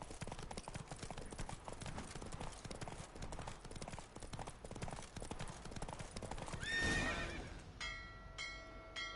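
Roach, the horse in The Witcher 3: Wild Hunt, gallops with a fast, steady clip-clop of hooves, then lets out a loud whinny near the end before a short musical game chime.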